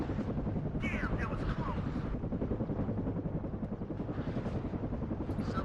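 A Chinook helicopter flies in to land in the WARNO war game, its rotor chop a dense, steady thudding drone with brief higher chirps layered over it.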